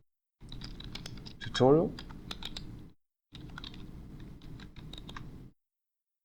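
Typing Python code on a computer keyboard gives steady close key clicks in two bursts split by a short silence, while a voice speaks briefly over the first burst.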